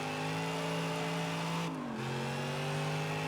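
A Chevelle V8 engine in the CarX Street video game holds a steady, loud drone, then the revs dip and climb again as the clutch is kicked, with no talking.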